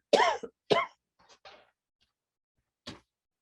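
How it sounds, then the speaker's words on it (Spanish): Two sharp coughs close together, followed by a few quieter throaty sounds and one last faint cough after a pause. "tengo un exceso de tos aquí"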